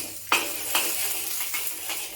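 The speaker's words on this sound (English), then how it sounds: "Heat some vegetable oil in the wok, and then saute the ginger," Ginger and garlic sautéing in vegetable oil in a wok, with a gentle sizzle beneath a few sharp utensil scrapes and taps against the metal, close and moderately quiet with no talking.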